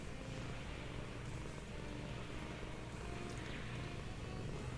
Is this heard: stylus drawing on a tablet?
no